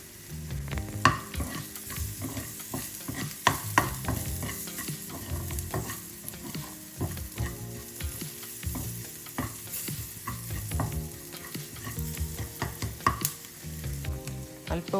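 Spices such as turmeric, chili powder, salt and fenugreek powder fry in a pan for a brinjal curd dish, a dense continuous sizzle with frequent clinking, scraping stirs up close and no speech.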